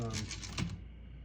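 A short run of crisp key strikes on a 1964 Olivetti Lettera 32 manual portable typewriter with Spanish layout, about five taps in quick rhythm, close by, ending with a slightly heavier clack.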